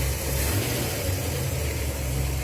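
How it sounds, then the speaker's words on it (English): A Ford Galaxie engine with a carburettor and air-fuel issue runs at a steady low rumble with a brief rise in revs, close and continuous, no talking. "let me rev it up"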